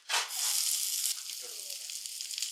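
Coconut pieces roasting in hot oil in a pan for a chickpea roast, a strong steady sizzle close by that surges at the start and then settles into a softer continuous fry.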